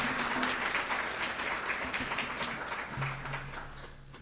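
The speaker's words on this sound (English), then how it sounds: "So let's give a warm applause and a warm welcome for Kevin Meyers." An audience at a presentation claps steadily, dense applause from many hands that slowly tapers, with a faint voice murmuring underneath.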